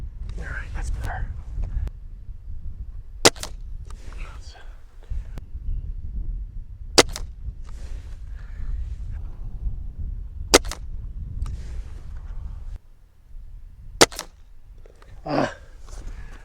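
Sharp, isolated cracks from a SIG ASP20 breakbarrel air rifle, five shots spaced a few seconds apart, each a brief loud snap over a low background rumble, with quiet speech-like murmurs between them.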